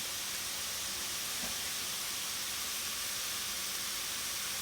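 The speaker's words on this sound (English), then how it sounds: "You hear that nice little sizzle, you know that it's cooking" Halibut curry sizzles in a pan with a steady, even hiss that holds at the same level from start to finish, with no voices over it.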